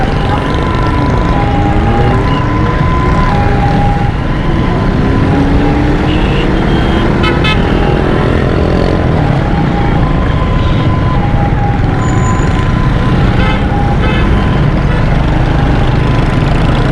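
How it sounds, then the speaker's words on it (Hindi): Gridlocked road traffic in Karachi near the Baloch Colony bridge, with a dense, loud rumble of idling and creeping engines and repeated car horn honks sounding throughout, some short and some held longer. "अब ये कितना ट्रैफिक जाम हुआ है"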